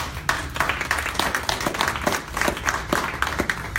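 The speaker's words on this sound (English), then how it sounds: "With rousing applause, please help me welcome Anthony Prichard." An audience applauds steadily, many hands clapping in a dense, even patter that holds at a moderate level without a break.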